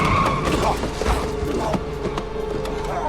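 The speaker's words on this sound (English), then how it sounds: "a car suddenly sped toward him and slammed into him head-on" A speeding car in a film scene, a dense loud rush of skidding and engine noise with sharp transient hits, continuous and close over about three seconds, no talk.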